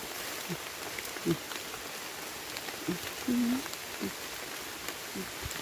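Steady rain falls on a mountainside during mushroom picking, a continuous soft hiss with a few brief voice sounds and rustles now and then.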